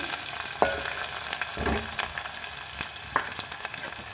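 Onions and curry leaves frying in hot oil with cumin for a stuffed brinjal curry, giving a steady dense sizzle with occasional spatula scrapes and stirring knocks, close and continuous with no talking.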